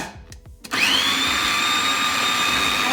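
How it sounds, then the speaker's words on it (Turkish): A few soft clicks, then a blender kicks on and runs with a steady, high whirring drone, blending vegetables for soup. "Kapattık ve blender'dan geçireceğiz."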